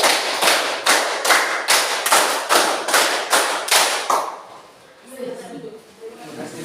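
A quick, steady run of about a dozen close hand claps in a counted clapping routine, roughly three per second, stops abruptly before a voice begins speaking.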